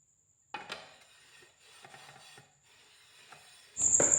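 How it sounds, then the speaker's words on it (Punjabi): A scrubber works Vim across a hot roti tawa in faint, uneven rubbing strokes with brief pauses, then a louder, harsher rasping burst near the end. "ਇੱਕ ਸਕ੍ਰੱਬ ਲੈ ਕੇ ਆਪਾਂ ਚੰਗੀ ਤਰ੍ਹਾਂ ਨਾਲ ਸਾਰੇ ਹੀ ਤਵੇ ਦੇ ਉੱਤੇ ਲਗਾ ਦਾਂਗੇ"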